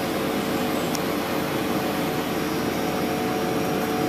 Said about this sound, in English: Fans running, compressors running.